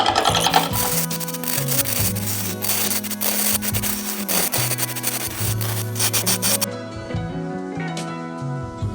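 A wooden bottle opener handle spins on a lathe while a carbide tool cuts and shapes it. The cutting gives a continuous rough scraping with a steady machine drone underneath, and it trails off near the end.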